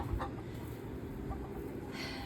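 Hens in a backyard flock of about 28 birds clucking softly and continuously against a steady background hum, near and moderate, with no talking.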